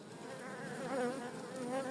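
Dense, continuous buzzing of many honeybees at an open hive close by, a steady droning hum without pauses.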